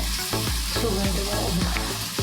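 Chopped onions fry in hot oil for veg pulao, a continuous close sizzle broken by several sharp scraping knocks of a spoon stirring the pan.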